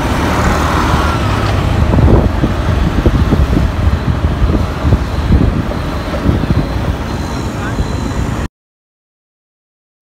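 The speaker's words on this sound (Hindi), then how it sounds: "ये आ गया ट्रैफिक," Busy road traffic fills a Mumbai street, a loud, continuous rumble of vehicles with people talking over it, then it cuts out abruptly near the end.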